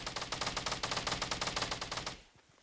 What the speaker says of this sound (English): Does anybody have enough ammo to shoot down those stairs?